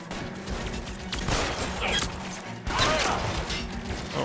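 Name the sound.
gunfire in L.A. Noire video game shootout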